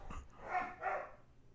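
A dog gives two quick, fairly loud barks close by, one after the other, followed by quiet.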